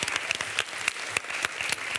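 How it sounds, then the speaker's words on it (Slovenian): A large audience applauds a primary school team that placed second in a quiz-style school competition; dense, steady clapping runs throughout with sharp individual claps standing out, loud and close. "En velik aplavz za osnovno šolo Gornji Petrovci za drugo mesto"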